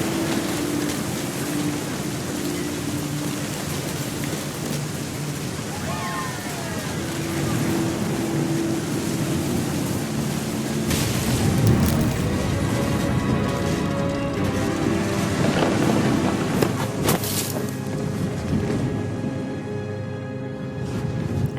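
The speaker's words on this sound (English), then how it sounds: "The thunder sounded much too close and full of angry power" Thunderstorm ambience from What Remains of Edith Finch: steady rain hiss with low rumbling thunder swelling in the middle, joined by faint tonal music and scattered clatter, loud and continuous throughout.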